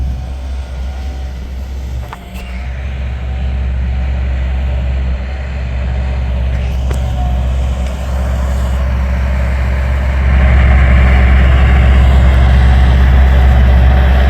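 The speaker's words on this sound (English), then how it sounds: "Bobcat 763 with the grapple, picking up brush and stuff" A Bobcat 763 skid steer with a grapple works picking up brush, its diesel engine droning loud and close, with a couple of sharp clanks and the engine note rising louder near the end.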